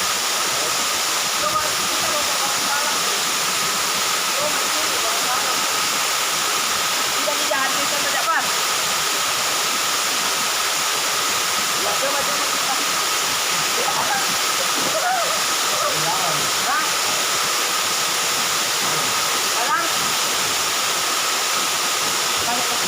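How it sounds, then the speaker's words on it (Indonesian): Paradaiya waterfall in Selayar, a tiered cascade, roars as a steady, dense wash of falling water close by, unbroken throughout, with faint voices half-buried beneath it. "Air terjun yang terlupakan, air terjun Paradaya. Air terjun yang bertingkat-tingkat"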